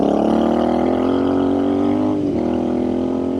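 A Royal Enfield Scrambler 650 motorcycle engine pulls hard under acceleration with a steady, loud rising drone, heard up close from the rider's position with a brief dip in pitch near the end, as on a gear change or throttle lift.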